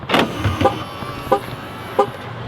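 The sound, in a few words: Hummer locking, mirrors folding and door handles retracting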